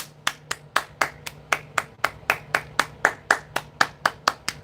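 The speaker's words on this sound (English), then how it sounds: "Can we get a round of applause" Steady clapping at a makeup livestream, about sixteen sharp, evenly spaced hand claps from one or a few people nearby, alone with no talk.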